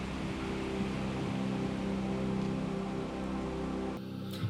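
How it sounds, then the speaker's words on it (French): Steady rain falls through a jungle, a dense, even hiss of drops that holds constant, then thins and shifts briefly near the end, with no voices. "Ah oui, il pleut tout le temps."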